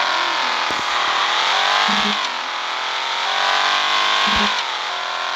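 A car engine revs in a drag racing video game, a steady loud whine rising and falling across several gear pulls, with brief low thumps at the shifts and no talking.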